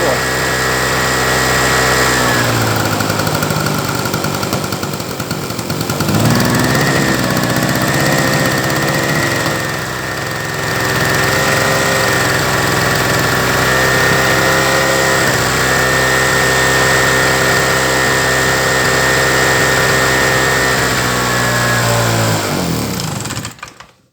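A petrol generator runs steadily and loudly for about 24 seconds, its mid-pitched engine drone dipping briefly around the sixth second before settling back, then cutting out at the very end.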